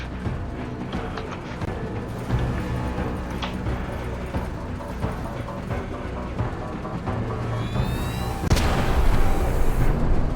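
Cannon and artillery fire in the tactical video game Menace: a steady, dense barrage of booms and pops continues throughout, with a louder, heavier blast near the end.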